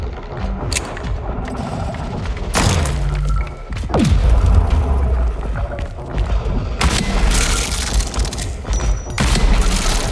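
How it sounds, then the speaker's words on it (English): A pipe bomb going off in the shooter INDUSTRIA 2, with heavy booms and thuds scattered among other gunfire and crashing impacts, loud and near with no talking. "Bro, that pipe bomb did no damage."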